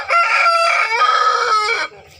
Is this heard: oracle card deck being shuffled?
no